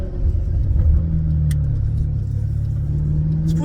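A Maserati GranTurismo S fitted with a Larini aftermarket exhaust rumbles with a deep, steady engine note, rising slightly as it revs, close and loud with no talking.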